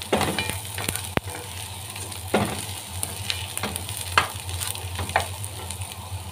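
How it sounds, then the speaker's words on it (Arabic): Onion sizzling in a hot pan while a spoon stirs it now and then, a steady close fry broken by a few sharp scrapes and clacks. "وهنرجع للبصلة تاني. كل شوية هنقلبها."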